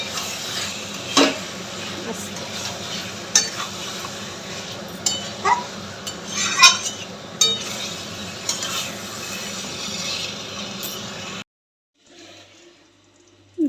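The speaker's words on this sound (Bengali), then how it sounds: "এবার চিকেনটা দিয়ে দেবো। চিকেনটা দিয়ে ভালো করে কষে যতক্ষণ না তেল ছাড়বে" Chicken sautéed in spice masala, with a constant sizzle under repeated scraping and clinking stirs of a utensil against the pan, close and irregular. The sound stops abruptly near the end, leaving near silence.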